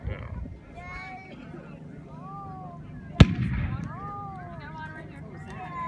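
At a Civil War reenactment at Picacho Peak, Arizona, a single musket shot cracks out sharply partway through, ringing briefly against the nearby chatter of people talking.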